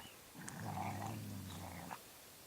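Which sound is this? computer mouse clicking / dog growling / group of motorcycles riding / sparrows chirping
dog growling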